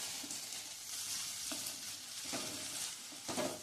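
Sliced okra sautés in a pan for a crushed-peanut okra dish, a soft, steady sizzle broken by occasional scrapes and knocks of stirring.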